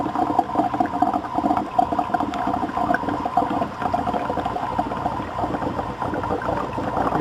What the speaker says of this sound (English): As you can hear, it's starting to make major bubbles right now.